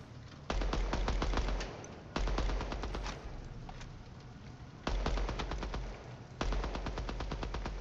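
Video game gunfire: four long bursts of rapid automatic shots, each a dense string of sharp cracks with short pauses between, loud and close with no voices.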